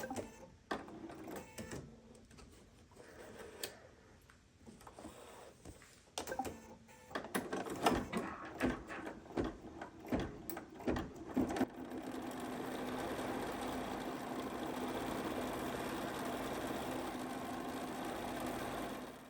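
An embroidery machine stitches a quilting pattern on a Kimberbell mystery quilt block, first in irregular stop-start bursts of needle clatter, then settling into a steady, continuous mechanical hum.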